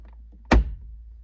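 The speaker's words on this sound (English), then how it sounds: "Give it a firm tap so that the clips go back in" One firm thunk as a Toyota Sequoia's A-pillar trim is tapped and its clips snap into place, close and brief, with quiet surroundings.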